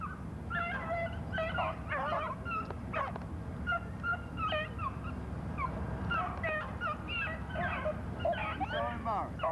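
Rabbit-hunting dogs yip and whine in quick, high bursts through brushy ground, the calls scattered and continuous while people talk close by.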